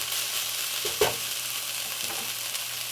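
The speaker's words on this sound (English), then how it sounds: "And I'm going to stir this every minute or so." Chicken frying in a pan for keto garlic chicken gives a steady close hiss, with a single scraping stir of the spatula just after the first second.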